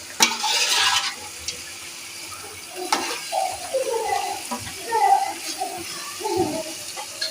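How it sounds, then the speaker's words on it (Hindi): Beef pieces frying and being stirred in a pot for nihari, a burst of sizzling and scraping of the spoon against the pot, then quieter sizzle with intermittent stirring clatter while a person talks. "गोश्त डाल के हमने थोड़ी देर इसको भून लेना है।"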